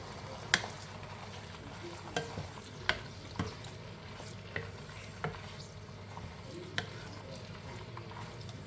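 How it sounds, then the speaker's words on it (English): Kenyan pork frying in oil in a covered pan, a steady soft sizzle with sharp clicks and spatters popping every half second or so, close and without talking. "I'm probably going to cook it just in this oil for about 2 to 3 minutes"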